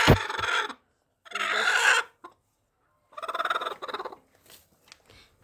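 Hens in a chicken coop let out several short, loud bursts of clucking and squawking close by, with quiet gaps between them and a few softer clucks near the end.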